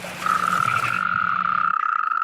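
Frogs and toads croak in springtime wild Spain, a steady sustained trilling call running throughout at close range, with a low rhythmic pulsing underneath that stops before the end.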